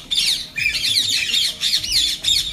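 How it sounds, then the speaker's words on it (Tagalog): Several Indian ringneck parrots squawk repeatedly, close and loud, in a rapid series of shrill screeching calls with short gaps between them. "Ang ingay ng mga Indian ringneck."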